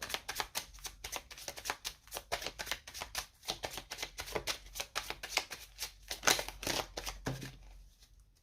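Tarot cards are shuffled fast and continuously in quick, crisp riffling bursts, close up and fairly loud, until the motion stops near the end.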